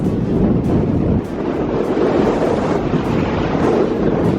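Strong, steady wind roars and buffets the microphone at a roadside viewpoint overlooking Selfoss in Iceland, loud and continuous with no speech.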